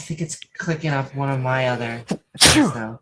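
A single loud, abrupt sneeze bursts out near the end, right after a person speaking nearby.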